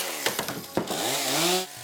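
A chainsaw cuts into a block of ice for an ice sculpture, its engine snarling loud and close in short bursts before settling into a sustained, rising whine that drops off near the end.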